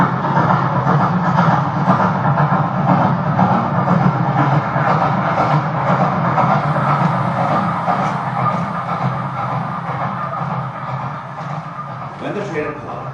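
A train rushes past close by on a railway line in a steady, loud roar with rhythmic clatter from the wheels that gradually eases toward the end. A voice is heard alongside.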